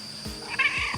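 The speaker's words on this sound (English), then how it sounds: "Dottie, the angry kitty." Dottie, an angry pet cat on a farm, lets out short strained meowing cries against a faint steady background, close and brief.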